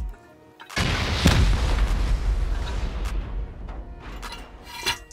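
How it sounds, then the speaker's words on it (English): Rockets slam into a base during a raid in Rust, opening with a loud blast that rolls into a long rumbling decay, followed by scattered smaller bangs and a final sharp hit. "Send rockets around the power."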